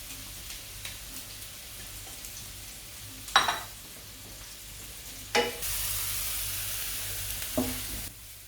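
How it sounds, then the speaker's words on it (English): A soft, steady sizzle of whole spices and whole chilies frying in a pan, with a few sharp clinks and stirring scrapes, then a louder hiss as the sizzle intensifies. "they go straight into the pan to sizzle"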